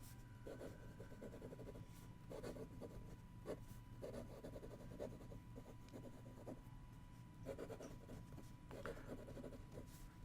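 A Rotring Skynn fountain pen with an ergonomic comfort grip and a fairly wet nib writes on paper, making soft, scratchy strokes in short repeated bursts. They sit close over a steady low background hum, with no talking.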